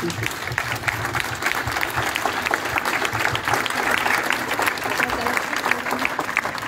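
An audience applauds at a rally in Montbrison, a dense and fairly loud burst of clapping from many hands that stays steady throughout, with faint crowd murmur beneath.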